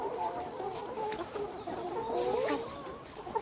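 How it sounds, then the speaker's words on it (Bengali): Nourish layer hens on a poultry farm unit cluck and chatter steadily in a continuous flock murmur, with a few louder squawks standing out near the end. "মুরগিগুলোকে দেখাইতেছি"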